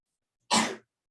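A single short, sharp sneeze bursts out nearby in a quiet classroom, then silence.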